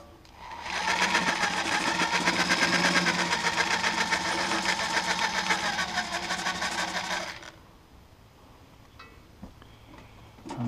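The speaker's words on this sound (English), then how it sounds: "Now we're going to hit this again with the drill" A power drill whirs loudly and steadily for several seconds while working on a 1968 John Deere 3020 tractor, then cuts off, leaving quieter background noise.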